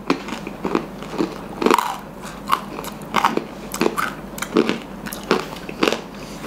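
Someone bites into a crispy fried vegetable snack and chews it. A dozen loud, close crunches come in an irregular rhythm, with no talking between them.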